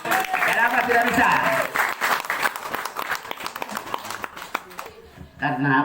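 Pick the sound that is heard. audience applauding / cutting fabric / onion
audience applauding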